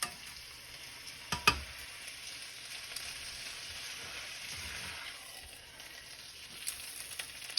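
Pork sizzling in a pan while frying for Sichuan dan dan noodles, a quiet continuous crackle with a couple of sharp clatters early on and no talking.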